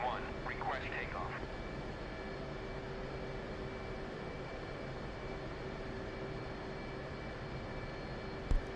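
An F/A-18C in DCS World hums as it taxis toward takeoff, a steady, fairly quiet engine drone with a constant whine, under faint voice chatter near the start.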